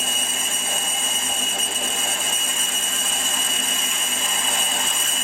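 Steady whirring and grinding of a 7.8 mm drill opening up a hole on a Warco WM180 lathe, a continuous, even machining tone held throughout at moderate loudness.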